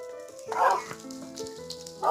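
Small puppy yapping in short bursts close by, a few sharp barks spaced across a couple of seconds with quieter pauses between them.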